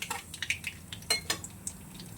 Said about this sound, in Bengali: দিয়ে দেবো দুটো গোটা শুকনো লঙ্কা, আর দিয়ে দেবো একটু কালো জিরে, দিয়ে একটু নেড়ে নেব